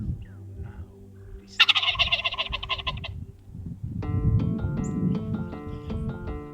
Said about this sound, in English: he gobbles and gobbles and gobbles and walks away